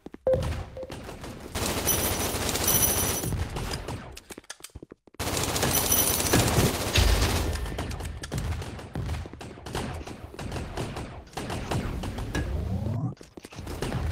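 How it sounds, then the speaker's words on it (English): Rapid volleys of gunfire in Gun Raiders VR, including shotgun blasts, pound close and loud in dense bursts with brief pauses between, amid game sound effects. "Shotgun."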